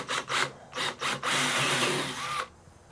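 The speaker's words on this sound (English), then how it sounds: "I'm going to drill from this side" A cordless drill bores through an exterior door from the far side, starting with a few short whirring bursts and then holding one steady, loud grinding run before it cuts off.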